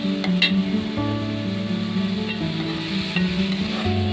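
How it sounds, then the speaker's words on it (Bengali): Onion frying with chopped garlic and ginger paste in a pan, a steady close sizzle with light stirring and occasional spatula scrapes, no voices. "পেঁয়াজটা একটু লাল লাল করে ভাজে নিতে হবে এবং সাথে রসুন কুচিও দিয়ে দিলাম আদা বাটা দিয়ে দিলাম"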